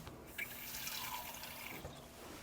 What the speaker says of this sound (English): and then we're gonna add a little bit of water too.